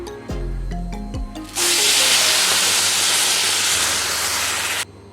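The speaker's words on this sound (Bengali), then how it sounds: "এবার আমি জল দিয়ে দেব।" Water poured into a hot pan of frying moong dal bursts into a loud, sustained sizzling hiss after a few clinks and a low thud, holding steady for several seconds before cutting off abruptly.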